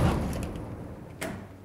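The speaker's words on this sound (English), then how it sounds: "hold the Do Not Disturb card in place and close the door" A hotel room door swings shut with a Do Not Disturb card held in place and a swing bar lock, first a soft sweeping rush and then a sharp click-thud of the latch, close up in a quiet room.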